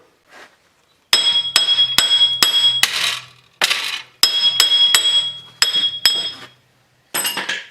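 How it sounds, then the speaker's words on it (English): A hammer strikes metal about a dozen times in quick groups, each loud blow ringing sharply, with short pauses between the sets of hits, knocking a wheel hub assembly off a car to replace the wheel bearing. "we should be able to take a hammer to that and pop her off"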